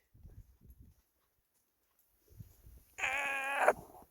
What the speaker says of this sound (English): Oh, the goodest kitty.